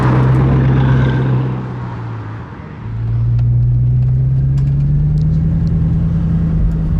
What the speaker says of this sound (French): le son de l'admission d'air et de la dump valve là.